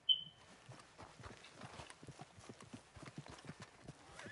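Horse hooves clip-clop at a steady walking rhythm in the video game Red Dead Redemption 2, soft and fairly close, with a short high tone at the start.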